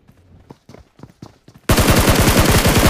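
Gunfire in PUBG Mobile: a few scattered clicks and light taps, then a sudden loud burst of rapid automatic fire that continues without a break to the end.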